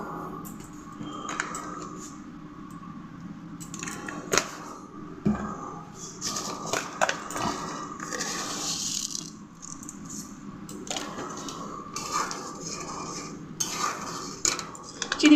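Masala sautéing in a metal pan for khichuri, with a spoon scraping and clinking against the pan in irregular bursts over a low background hum.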